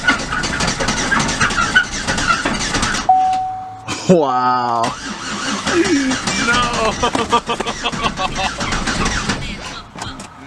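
A wrecked Chevrolet Impala engine cranks in a rhythmic churn under loud background noise, pauses while a steady electronic tone sounds, then keeps turning over without catching; a person speaks briefly.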